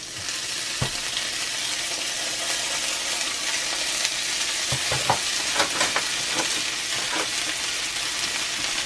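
Butter sizzles and fries in a cast iron pan with a steady, bright crackle and a few sharper pops and stirring scrapes, close and continuous, with no voices.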